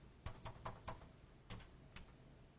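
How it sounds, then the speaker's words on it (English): Someone types a member number on a computer keyboard, producing about seven distinct, faint, close key taps in an uneven rhythm. "I'm just going to type in Carol Barker's member number again."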